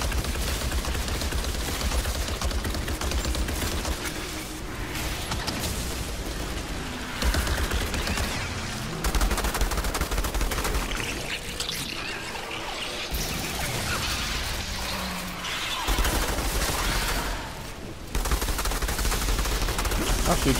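Sustained gunfire in the Outriders shooter game, bursts of rapid automatic shots and single blasts pounding on and off over a long stretch, loud and close, with voices speaking at times.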